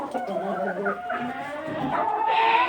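Several chickens and roosters cluck and murmur nearby on a farmyard, overlapping calls rising and falling, with one louder squawk near the end.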